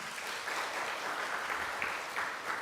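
Church congregation applause during a Sunday morning service, a steady, moderately distant wash of many hands clapping that continues evenly throughout without any voices.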